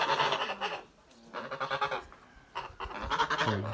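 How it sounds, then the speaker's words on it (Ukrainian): Young Kholmogory geese, about three months old, honk loudly and repeatedly at close range in a farmyard, in several noisy overlapping bursts with brief pauses between. "вони почали гелготати наші гусики"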